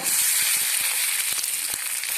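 Mustard seeds, dried red chillies and curry leaves frying in hot coconut oil for a Kerala drumstick-leaf thoran, a steady bright sizzle with scattered sharp pops and crackles of seeds bursting, close by with no talking.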